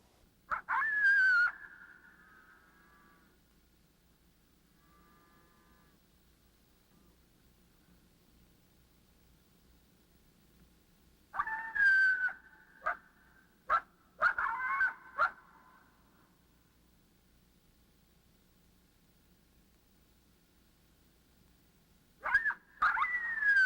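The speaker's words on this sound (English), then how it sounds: "this is another really easy to identify coyote vocalization, a threat bark howl" Coyote threat bark howl: sharp barks breaking into a wavering howl, first alone, then after a long quiet gap a burst of several quick barks and howls, and a final bark at the end, fairly close and loud.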